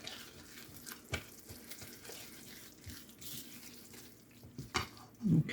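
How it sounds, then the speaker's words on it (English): A spoon stirs shredded cheese through a cooking mixture in a pan, with soft scrapes and a quiet sizzle underneath and a louder scrape at the end. "So stir this around."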